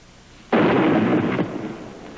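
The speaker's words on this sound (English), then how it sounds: "A cannon shot's just been heard from the Pinta." A single booming cannon shot in a radio drama, fired at sea from the ship Pinta, hits suddenly and loud, then rumbles on with a long, heavy tail before fading.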